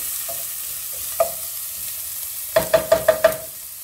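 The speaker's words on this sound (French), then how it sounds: "une fois que votre cocotte commence à chauffer avec un petit peu d'huile, on rajoute les oignons que l'on va faire blanchir" Onions sweating in a little oil in a hot casserole, a faint sizzle under a run of five quick, ringing spoon taps against the pot rim near the end, close and quiet.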